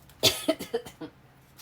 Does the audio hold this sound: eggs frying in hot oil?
no